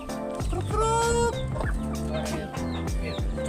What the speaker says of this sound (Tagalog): Daming manok lang dito guys, oh.